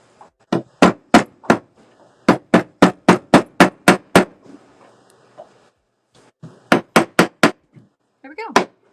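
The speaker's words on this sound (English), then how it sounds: "I can hammer it flat." Hammer strikes on a metal ring band being flattened, sharp ringing blows in quick bursts of about five to eight, with short pauses between runs, close and loud.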